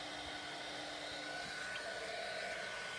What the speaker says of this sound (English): So a heat tool is definitely a good thing to invest in.